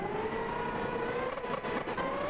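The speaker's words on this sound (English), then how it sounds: "Now let's test the burnout." A pickup truck doing a burnout in the racing game Gran Turismo 6: a loud, steady engine roar held at high revs, its pitch slowly climbing, with no talking.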